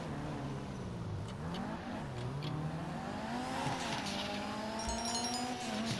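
Car engine in Grand Theft Auto V driving steadily and revving up and down through gear shifts, close and continuous, with brief tire noise near the end.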